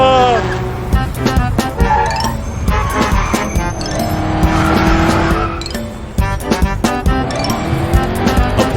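A car engine revs and roars while tires squeal and skid in bursts, with clinks and knocks scattered throughout; loud and busy.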